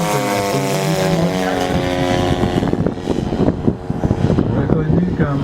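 A scale model P-51 Mustang propeller warbird flies past at a club fun-fly, its loud engine drone sweeping in pitch before breaking into rough, fluttering bursts as it passes nearby.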